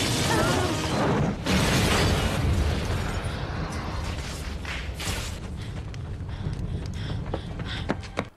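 A car exploding in a film scene, a loud blast that opens the clip, followed by a second burst and a long rumbling roar, then scattered pops and crackling debris as it fades.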